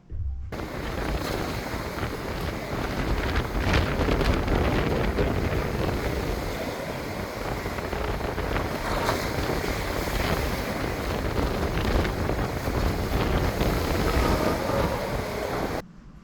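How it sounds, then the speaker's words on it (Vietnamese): Strong wind buffeting the microphone over rough ocean waves aboard a ship crossing the open sea, a steady loud roar of rushing air and surging water that runs without a break for the whole stretch. "Nó đi vượt đại dương, thành ra là nhiều lúc cũng sóng cũng dữ lắm."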